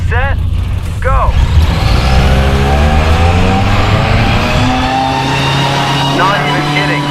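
A sports car accelerates hard in a race against a fast RC car, its engine note rising loud and close over several seconds, with brief voices and harmonic sweeps riding above the steady roar.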